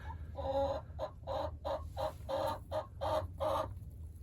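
A hen cackles loudly and close while laying an egg, giving a series of about eight rhythmic, evenly spaced squawking bursts over a low background hum.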